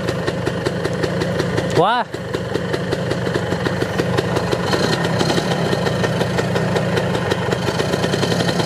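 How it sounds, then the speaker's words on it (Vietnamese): A 2002 Suzuki Satria motorcycle engine, just restarted after months of sitting and smoking, idles with a steady rapid putter, one quick rev rising and falling near the start, while someone talks over it. "Phải rồ máy chút xíu các bạn"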